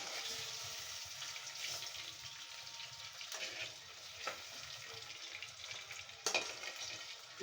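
Onions and spices frying in a pan with already fried potatoes, a steady quiet sizzle with a few soft stirring scrapes and clatters, no voices.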